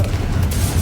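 A Confringo spell explodes in Hogwarts Legacy, a brief, loud, dense boom with a rumbling low end and a crackling burst over it, heard alone.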